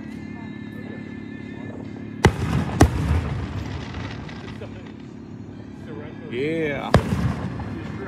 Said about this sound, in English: I see some little fireworks going off in the distance.